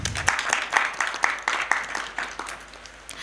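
An audience at a literary festival session claps steadily to welcome a speaker onto the stage, with sharp, fairly regular claps that thin out toward the end.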